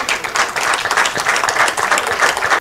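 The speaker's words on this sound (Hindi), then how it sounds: "इनके लिए भी एक बार तालियां बजा दीजिए" Audience applause at a health, wealth and happiness seminar, a dense, steady wash of many hands clapping together, fairly loud and sustained before stopping abruptly.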